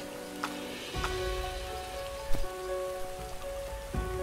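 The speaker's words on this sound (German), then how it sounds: "Also hier regnet es eindeutig rein." Rain falls steadily in the video game Starbound, a soft continuous patter with a few sharper drops, heard alone at low level over a steady backdrop.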